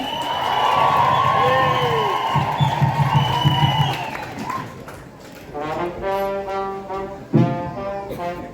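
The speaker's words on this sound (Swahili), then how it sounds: "Vigelegele na shangwe vizuri." Women's high trilling ululation and crowd cheering at an ordination celebration, loud and sustained at first, then easing into shouts and rhythmic whooping calls with voices mixed in.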